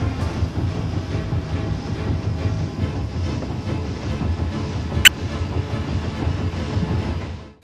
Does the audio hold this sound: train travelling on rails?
yes